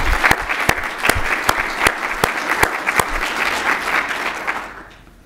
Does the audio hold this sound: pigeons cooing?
no